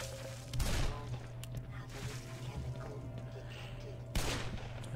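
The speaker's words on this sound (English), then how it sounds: "I shouldn't be wasting my bullets on these guys like that." Gunfire in the video game Black Mesa: a few loud, sharp bursts stand out at the start and near the end over a steady low hum, with no talk.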